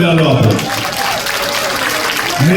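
Crowd at a political rally applauding loudly and steadily, a dense wash of clapping throughout with a voice speaking over it at the start and end.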